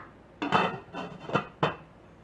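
A lid is set down on a pot used for candle-smoking Thai sweets (khanom klip lamduan): a few sharp clattering knocks, about four close contacts over two seconds, then quiet.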